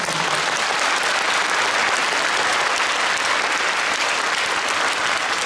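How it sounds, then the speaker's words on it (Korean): A large audience at a Korean Navy 76th anniversary concert in Olympic Hall fills the room with dense, loud, continuous applause, an even wash of many hands clapping with no break throughout. "여러분 다시 한번 큰 박수."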